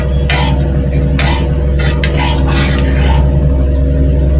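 Kuzhambu curry being stirred in a pot, likely with a spoon or ladle: loud, close scraping swishes in irregular bursts over a constant low background hum, with no talking.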